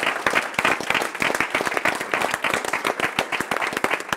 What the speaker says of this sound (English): let's have another round of applause for Carolina.